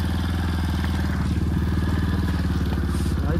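A motorcycle engine runs steadily and close by throughout, a continuous low pulsing drone with a slight rattle, and no voices over it.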